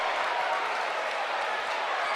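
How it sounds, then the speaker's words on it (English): Crowd cheering at a high school basketball game in 2006, a dense, loud, unbroken roar of voices and applause filling the whole stretch. "The crowd going wild here."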